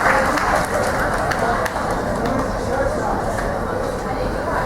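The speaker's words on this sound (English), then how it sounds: "Give him a big round of applause" Audience on a Carnival cruise ship applauding a hypnosis show, a steady loud wash of clapping with crowd babble mixed in.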